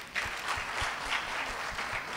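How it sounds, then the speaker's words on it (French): Steady applause from a conference audience at CABEF2022, a broad continuous wash of many hands clapping at moderate distance, with no talking over it. "Est-ce qu'on peut l'applaudir, s'il vous plaît?"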